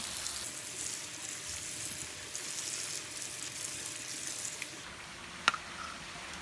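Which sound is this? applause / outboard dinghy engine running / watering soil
watering soil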